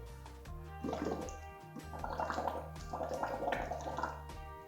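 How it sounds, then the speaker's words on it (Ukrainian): Air blown through a cocktail straw into a small cup of water, making bursts of bubbling and gurgling close by, in two or three spells over a steady low background hum, with no talking. "Візьмемо стаканчик з водичкою і подуємо в трубочку."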